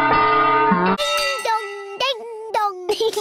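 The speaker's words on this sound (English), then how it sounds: "a big bell to ring" A big bell on a cartoon fire engine rings in a bright, sustained clang for about a second, followed by a voice and other cartoon voices talking.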